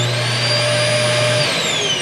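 A central vacuum system inside an XLR Hyperlite XLT2815 toy-hauler RV runs with a steady, loud motor whine and airy rush, its pitch sinking slightly as it winds down.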